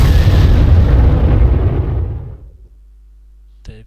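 Bombing explosions in a strategy video game: a loud, rumbling blast that roars for about two seconds and then fades out, followed by a brief click.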